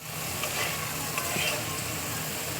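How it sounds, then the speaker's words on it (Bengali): Tomatoes hit a pan of hot oil, black cumin and spices while cooking a bhindi curry, giving a loud, steady frying sizzle with light stirring scrapes close by, and no voices. "এবার দেখো টমেটো আমি দিয়ে দিচ্ছি।"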